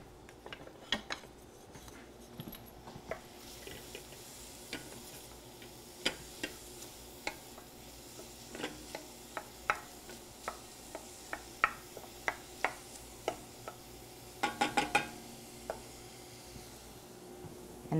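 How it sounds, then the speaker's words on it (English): Vegetables sauté in a pan with a soft steady sizzle under frequent sharp clicks and scrapes of a utensil stirring against the pan, including a quick cluster of knocks near the end. "we're going to let this saute for just a moment"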